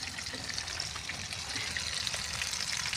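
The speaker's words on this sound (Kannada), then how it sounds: "ಇವಾಗ ಫ್ರೈ ಆಗ್ತಿದೆ ನೋಡಿ" Bangda fish with garlic frying in oil on a tawa: a steady, soft sizzle and crackle, continuous and even, with no talking.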